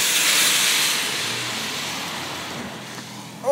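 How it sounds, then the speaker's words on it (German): Alcohol poured over food on an outdoor grill catches fire for flambéing, giving a loud broad whooshing roar of flame that slowly eases off, with a brief sharp sound at the very end. "Also, wir flambieren."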